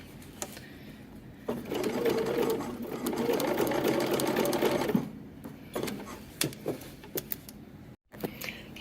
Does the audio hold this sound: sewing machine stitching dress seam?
yes